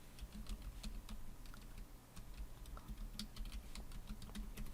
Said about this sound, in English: This time what I'm going to type in is Halloween wallpaper.